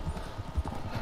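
Hooves clop rhythmically as a horse gallops in Red Dead Redemption 2 Online, a steady muffled beat of footfalls in a brief burst.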